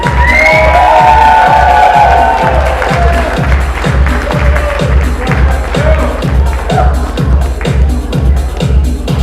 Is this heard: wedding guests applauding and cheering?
yes